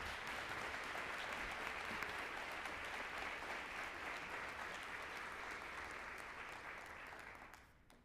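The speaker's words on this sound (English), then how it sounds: "Let's give them another big round of applause." Sustained applause for students at a school district event, a steady dense wash of clapping from a room of people that fades out near the end; fairly quiet, as if heard from a distance.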